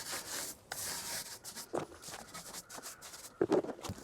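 A brush scrubs a foamed car wheel in irregular, gritty rubbing strokes that come close and at moderate volume, with sharper scrapes near the end.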